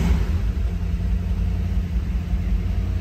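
A 1966 Ford Mustang GT that had sat parked for ten years runs steadily at idle, a close, continuous low rumble without revving or talking.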